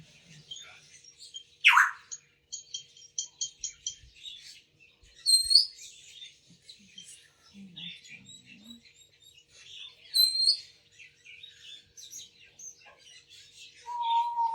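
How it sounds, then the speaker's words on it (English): Garden birds chirp and tweet around the listener, a mix of quick repeated chirps, sharp rising calls and scattered twitters at varying distances, with quiet pauses between bursts and no talk. "It's my whole garden's full of birds today."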